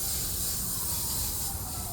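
Lawn sprinklers spray the grass of Hart House Circle at the University of Toronto, giving a steady, soft, high-pitched hiss that holds constant with no breaks and no talking.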